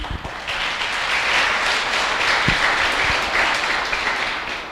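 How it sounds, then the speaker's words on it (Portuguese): A church congregation breaks into loud, sustained applause, dense clapping from many people at close range that swells and holds steadily throughout, with a few sharper claps standing out. "aplauda o Senhor por isso"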